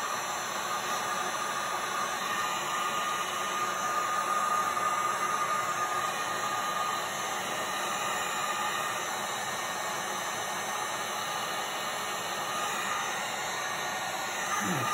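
Steady, loud hiss of a heat tool blowing hot air over resin cabochons, a continuous broadband rush that holds level from start to finish with no talking.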